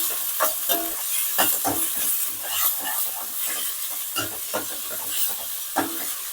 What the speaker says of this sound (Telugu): ఇప్పుడు చిన్నగా ముక్కలుగా కట్ చేసుకున్న ఒక మీడియం సైజ్ ఉల్లిపాయలు 4 ఉల్లిపాయలు అయితే వేసుకుంటున్నాను. ఇప్పుడు ఒకసారి కలిపేసుకుందాం.